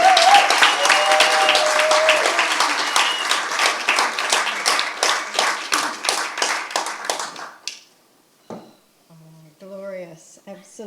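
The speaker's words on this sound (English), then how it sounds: "our fearless founders, please, a massive round of applause for Mel and Harry" An audience claps loudly for the founders at a music co-operative launch, a dense sustained burst that thins into scattered claps and stops, followed by a few spoken words.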